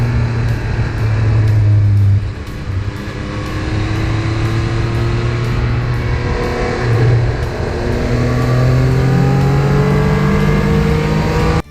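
A Triumph Speed Triple 1200 RS motorcycle on a test ride, its engine droning loud and close with rising and falling revs through gear changes, steady throughout and with no talk.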